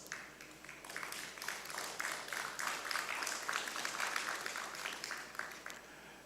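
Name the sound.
audience applause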